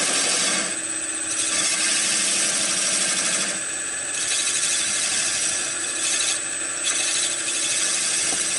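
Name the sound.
scraping cut on wood with eccentric bat turning tool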